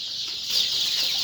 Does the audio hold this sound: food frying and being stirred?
no